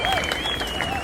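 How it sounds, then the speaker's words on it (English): Applause and crowd noise from a live music battle event between two singers, a steady dense wash of clapping with a tone or voice running over it, brief and fairly loud. "So let's all give them a round of applause"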